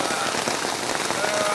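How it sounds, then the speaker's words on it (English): Steady rain falling during a New York hunting trip, a dense, loud, continuous patter on surfaces close by with no break. "It is raining."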